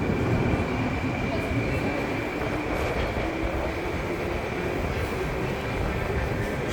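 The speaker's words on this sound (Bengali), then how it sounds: "এই যে ট্রেন চলে যাচ্ছে।" A Baku metro train pulls out of Nizami station in Azerbaijan, a loud continuous rumble and rolling roar filling the platform, with a steady high electric whine above it, no voices heard.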